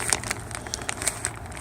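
A plastic bag crinkles and crackles in irregular bursts as a tool bag for an '89 Sportster is handled close by, fairly quiet.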